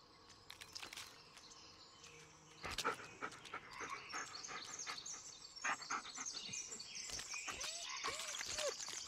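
Dog panting and sniffing in the Blair Witch video game, close and steady over a woodland ambience of insects and birds, with a few sharp rustles and brief chirps.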